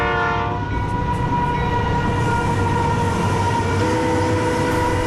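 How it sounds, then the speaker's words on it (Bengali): A train pulls into a railway station, its loud horn blaring at first, then the heavy steady rumble and clatter of the rail cars carries on close by. "আরে তোর ট্রেন এসেছে, মাত্র 2 মিনিট দাঁড়াবে এখানে"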